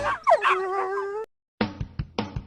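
A puppy gives a rising, whining yelp, then goes quiet before three or four short, close barks.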